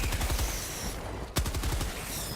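Heavy autocannon fire from a manned AT-47 anti-tank emplacement turret in Helldivers: loud, close bursts of rapid shots that pause briefly, then resume with a sharp, hard report.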